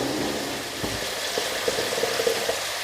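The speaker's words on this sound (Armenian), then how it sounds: "Տաք ջուր եմ լցնում" Hot water poured into a cooking pot for a large batch of ginger tea, a steady close hiss of liquid with faint clinks and small splashes throughout, no voices.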